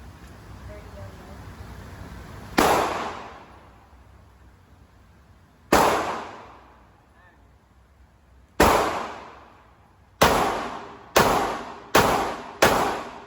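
Rifle shots at an outdoor shooting range crack out sharply, seven in all: three spaced several seconds apart, then four in quicker succession, each ringing briefly before fading, with no talk over them.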